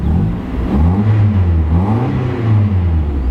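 A Mazda Miata engine revs up and down in two loud, rising and falling surges, close by and alone, with no talking over it.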